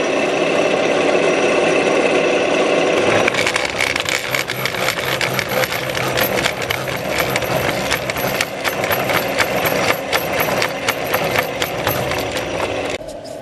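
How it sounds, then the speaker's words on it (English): A radial drill fitted with a countersink tool cutting a chamfer into a steel Nuffield tractor steering arm, a motor hum that switches on after a few seconds and then runs with rapid rattling, chattering cutting noise until near the end. "with the aid of this countersink tool I'm going to put a nice rebate in the back"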